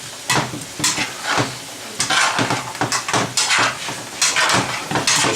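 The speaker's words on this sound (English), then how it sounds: "I want these to saute up nicely." Vegetables for a veggie frittata sauté in a pan, a steady sizzle broken by repeated scraping and stirring strokes of a utensil against the pan, close and fairly loud.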